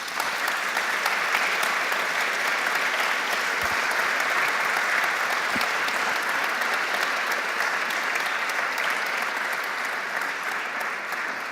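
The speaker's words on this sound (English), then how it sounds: "round of applause." A conference audience applauds at the close of a climate change and natural disasters panel, with sustained, dense clapping that holds at an even level throughout and no voices on top.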